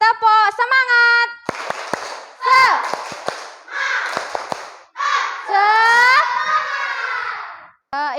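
A class of Indonesian fifth-grade schoolchildren does a rhythmic clap chant, with crisp group claps in short patterned bursts between loud, energetic chanted phrases.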